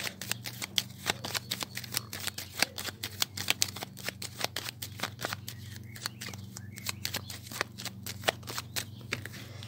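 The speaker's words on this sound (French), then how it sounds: "je vais faire une coupe avec mon tarot que j'utilise pour les consultations tous les jours." A tarot deck used for daily readings is shuffled and cut by hand, a quick run of crisp card slaps and riffles repeating close up throughout.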